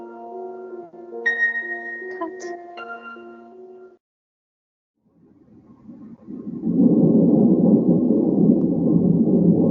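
A thunderstorm sound effect for a stage murder-mystery play starts after a brief quiet, swelling into a loud, steady roar of rain and rumbling that holds to the end, following a stretch of tonal music.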